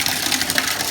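Hot water rushing steadily through a faulty shower valve that will not shut off, a continuous close hiss of flowing water with no pauses.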